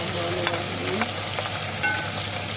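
Onion and ginger fry in a pan for cumin rice with cabbage and potatoes, giving a steady close sizzle with a few soft scrapes from stirring, no voices.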